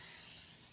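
Cooking oil spray hissing steadily onto vegetables in a kitchen, one short continuous close spray with no talk.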